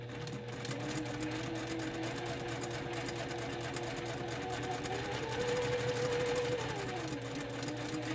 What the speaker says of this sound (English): And I just sew right off the edge.